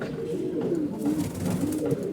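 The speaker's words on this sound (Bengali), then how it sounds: "ওই যে কোনো দুইটা আছে, তিনটা কবুতর আসছে।" Racing pigeons arriving home after a race coo softly and repeatedly at close range, a low murmuring throughout.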